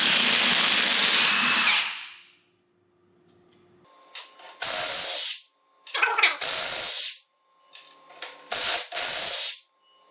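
An impact wrench with a socket hammers at bolts on a Toyota Supra differential, a long loud burst followed by several short rattling bursts separated by quiet pauses, close and harsh.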